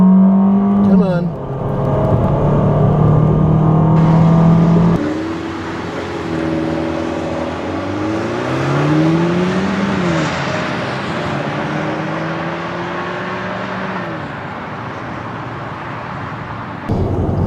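A 2014 Fiat 500L engine accelerates during a 0-60 mph run at high altitude, its revs climbing and dropping through several gear changes, heard from inside the cabin with a loud steady hum.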